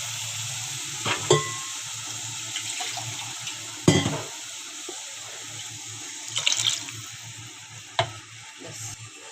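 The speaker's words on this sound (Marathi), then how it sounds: "आता याच्यामध्ये आपण पाणी टाकून घेऊया." Water from ground spice paste poured into a pan of fish curry, with a few sharp splashes and pours over a steady hiss of simmering, close and moderately loud, no voices.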